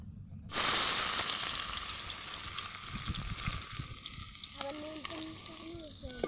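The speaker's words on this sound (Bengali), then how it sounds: "তেল দিয়ে দিয়েছি, এখন দিয়ে দেব পেঁয়াজ আর হালকা একটু লবণ" Sliced onions with a pinch of salt drop into hot oil in a pan at an outdoor picnic on a boat, bursting into a loud, steady sizzle that holds close and continuous, with a few faint high tones near the end.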